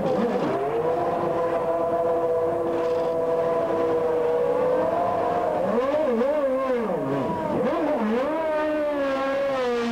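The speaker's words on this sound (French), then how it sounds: "Écoutez comment il joue de l'embrayage." A Formula 1 car's engine revs hard and continuously as the driver works the clutch leaving the pits, the high whining pitch holding, then dipping and surging repeatedly; loud and close, with no speech.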